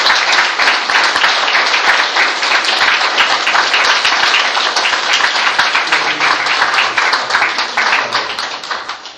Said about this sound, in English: That just threw me getting a round of applause.